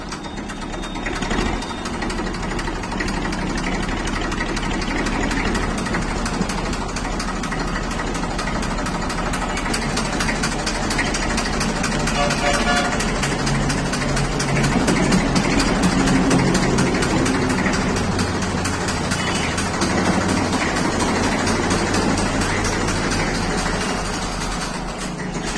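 Massey tractor engine idling steadily with a noisy, worn coupling, a continuous low rumble with a faint knocking rattle throughout, close and fairly loud with no talking.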